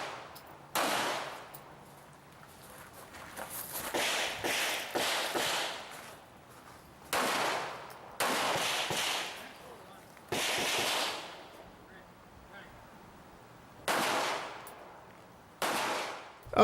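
Pistol shots ring out at an IDPA shooting match outdoors: several clusters of sharp, loud reports with gaps between strings, echoing briefly, with no talk.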